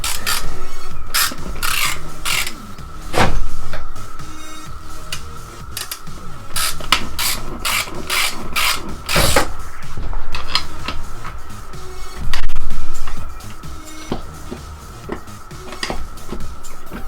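Hand tools working on the air box of a Yamaha YZ250F dirt bike on a table: repeated rasping, clicking ratchet strokes in close, uneven bursts, with brief louder scrapes and knocks throughout and no talking.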